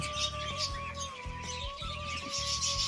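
Pigeon chicks call in a steady, continuous stream of thin, high chirping at close range, with soft cooing and rustling underneath and no speech.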